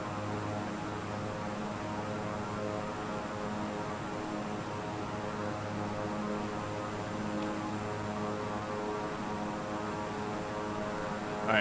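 A propeller airliner's engine drones in flight in a flight simulator game, a steady, unbroken hum that holds at an even level throughout.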